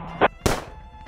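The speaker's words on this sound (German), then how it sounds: "Die lauten Schüsse ziehen alle Feinde näher an." Two gunshots ring out in the video game Rebel Cops, a short sharp crack followed moments later by a louder, fuller blast, both brief and close.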